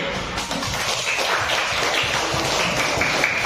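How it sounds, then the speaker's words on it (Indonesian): Steady crowd applause, a dense wash of many hands clapping together at even loudness throughout, with no voices standing out. "Memberikan apresiasi tepuk tangan."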